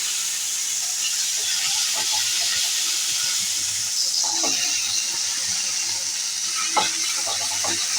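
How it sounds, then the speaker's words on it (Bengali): Oil brushed onto a hot chitoi pitha mould sizzles and hisses steadily, with light scraping and tapping from the brush and no voices. "শাঁসটা গরম হয়ে গেছে, এখন তেল দিয়ে দিচ্ছি। ভালো করে ব্রাশ করে দিচ্ছি।"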